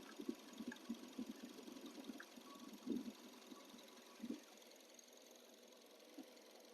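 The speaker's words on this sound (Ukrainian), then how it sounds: "Чуєте роботу двигуна. Просто ідеально." A Mazda car engine with automatic transmission idles quietly, a low, uneven rumbling pulse with soft knocks, no one speaking.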